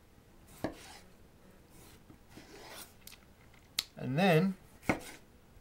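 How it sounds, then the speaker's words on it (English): A knife slices through a tomato on a cutting board, making a few sharp, separate cuts and taps spread over several seconds, with a brief spoken phrase in between. "place the cut half down on the board so it kind of just stands there, and make slices in your tomato"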